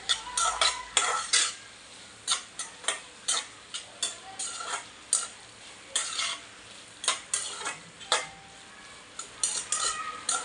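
Dried fish, onion and tomato being stirred in a pan, with a spoon scraping and clinking in quick irregular strokes over a soft sizzle, close and fairly loud, with no talk.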